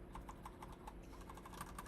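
Rapid, irregular clicking of keys on a computer keyboard, close by and quiet, with no voices.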